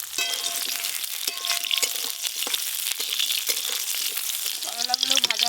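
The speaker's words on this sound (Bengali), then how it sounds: "এবার করলাগুলো একটু ভালো করে ভেজে নেব" Bitter gourd pieces fry in hot oil with a crackling sizzle and scraping stirs of a small spatula, fairly close and steady throughout.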